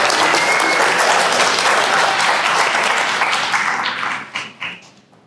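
Loud, dense applause from the audience at the Pennovation Accelerator Pitch Day, greeting the 2023 accelerator cohort, steady for about four seconds before thinning into a few scattered final claps.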